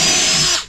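A power drill bores into a boat, a brief loud whining burst up close that winds down and fades out quickly.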